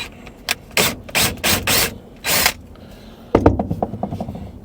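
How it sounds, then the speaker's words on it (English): Self-tapping screws being driven with a power driver on an RV at a campground, heard as several short, loud whirring bursts followed by a rapid ratcheting clatter, close and alone. "So we're just going to put a couple of screws in."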